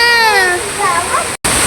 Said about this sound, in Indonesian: Pemandangannya air terjun.